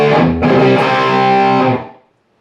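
Heavily distorted electric guitar plays a short, loud riff for about two seconds before cutting off into silence.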